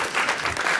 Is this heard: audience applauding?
yes